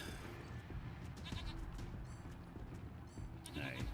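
Goat bleating in the video game Wasteland 3, a few short nasal bleats over a steady game soundscape with low rumbling, fairly loud and close.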